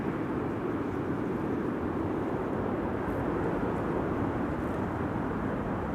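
A KLM Boeing 787-10 Dreamliner touches down on Runway 06 at Amsterdam Schiphol, a steady broad roar of engines and rushing air holding at even strength throughout, distant and continuous with no talk.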